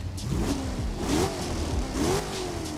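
A racing game car engine revs up and down in repeated rising whines, a steady mid-pitched roar throughout.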